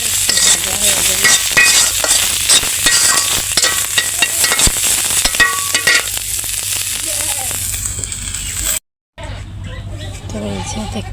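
Boiled flat beans sizzle in a kadai up close with scraping stirs, while faint background chatter, a goat and distant traffic sit underneath; a short silence falls near the end.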